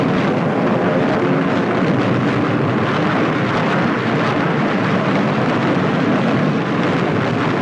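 Close to ninety bomb-laden warplanes fuelled on the flight deck of the carrier USS Yorktown roar steadily as engines run up for takeoff, a dense continuous rumble with wind noise and no voices.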